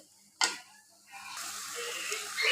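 Masala of ground coriander, turmeric, chilli powder and green chillies fries in oil for koi fish with poppy seeds. After a single sharp click, a soft sizzle rises and holds steady, fairly quiet and close.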